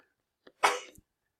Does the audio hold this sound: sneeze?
yes